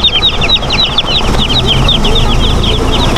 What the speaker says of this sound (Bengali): এখানে দেখতে পাচ্ছ বেশ কিছু ছোটো ছোটো মুরগির বাচ্চা।